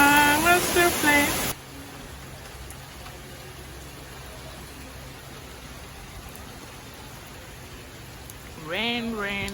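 Steady rain falls on a summer day in Oslo, a continuous even hiss through most of the stretch, with a person speaking briefly at the start and again near the end.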